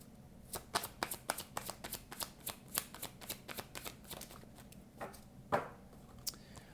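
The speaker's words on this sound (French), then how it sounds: "on va tirer une carte des anges de l'amour, si je retrouve le jeu" A deck of angel love oracle cards is shuffled by hand, a quick series of crisp riffling snaps and slaps, close and fairly quiet, with no talking.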